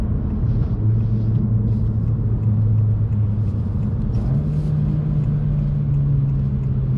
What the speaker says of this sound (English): So if you can listen, you'll hear as I'm gearing down the automatic blip